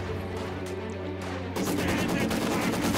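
Sniper and battle gunfire in the Company of Heroes 2 strategy game, with harmonic tones giving way at mid-clip to a loud, dense burst of shots and crackling impacts that continues to the end.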